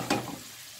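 Green beans with black pepper are stirred in a hot pan over high heat, giving a short scraping sizzle that swells briefly and then fades into a faint steady fry.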